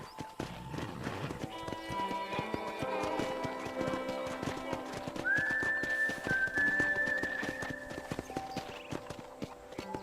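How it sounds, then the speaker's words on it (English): Horse hooves clip-clopping steadily in the Red Dead Redemption video game as a horse is led toward a ranch, a continuous rhythmic trot under a long whistled tone and game music. "I picked out a fine horse for you."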